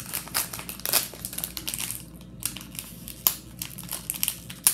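Pokemon card packs being unboxed up close, their plastic wrappers crinkling and rustling in short irregular bursts with a few sharper crackles, fairly quiet and with no talking.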